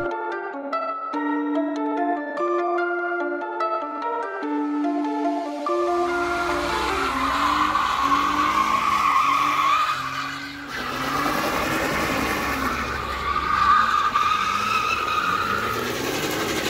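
Music plays at first, then a BMW drifting takes over with loud, sustained tire screeching and skidding that swells and fades in long waves over a low engine drone.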